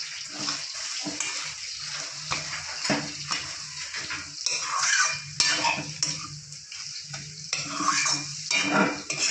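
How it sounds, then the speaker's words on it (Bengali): A metal ladle stirs and presses cooked chechi greens in a pot, giving continuous wet scraping and squelching with light clinks against the pot sides and a faint sizzle beneath, with no talk. "এবার একটা হাতা দিয়ে ভালো করে গুঁজে দেবো"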